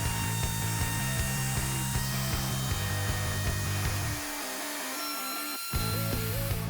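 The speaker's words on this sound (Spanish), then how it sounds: "Para eso usaré esta fresa romana diseñada para cantear." A wood router fitted with a Roman ogee edging bit cuts along the edge of a wooden shelf, a loud steady whine that briefly drops out before resuming, with no talking.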